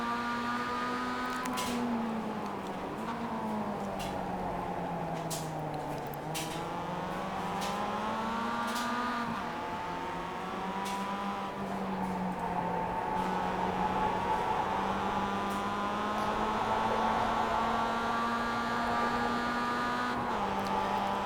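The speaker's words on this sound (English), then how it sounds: "this Global Cup car on iRacing is a lot of fun to drive" Global Cup race car in the iRacing sim, its engine droning loudly and continuously, pitch sweeping up through gears and dipping under braking, with short clicks of shifts throughout and no talk.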